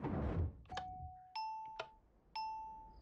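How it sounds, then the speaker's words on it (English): A Minecraft redstone note block doorbell rings with a short sequence of clean, bright chime tones, each one sustained before fading. A burst of low rumbling noise comes first, and no one speaks. "I also have this doorbell."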